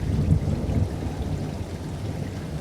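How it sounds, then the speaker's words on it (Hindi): Heavy rain pours down steadily in a thunderstorm over a village, a dense continuous wash of noise with a faint low rumble, with no voices. "कुछ दिनों बाद गांव में जोर की बरसात होती है।"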